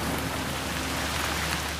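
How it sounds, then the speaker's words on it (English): Rain falling outdoors in Eastern Oregon, a dense, steady hiss of drops at even loudness throughout, close and alone with no talking. "it has already begun to rain."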